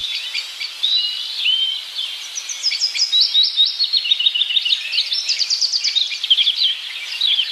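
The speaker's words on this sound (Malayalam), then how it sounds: "ആ മരത്തിൽ നിന്ന് കിളികൾ കരയുന്നത് കേട്ടോ?" Many small birds in a tree chirp and twitter in quick, overlapping bursts, a bright, busy chorus heard close and fairly loud throughout in a cartoon setting, with no voices.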